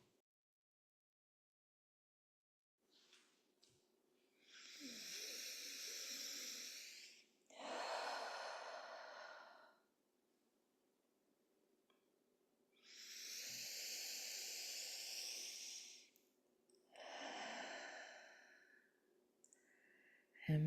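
Slow, deep breathwork: two long, airy exhales, each followed by a shorter breath, in a quiet room with a faint steady hum underneath.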